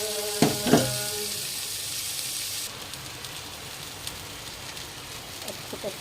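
Bitter gourd fries with crushed garlic, onion and green chillies in a pan, a steady hissing sizzle after a couple of sharp clanks at the start, the hiss softening partway through.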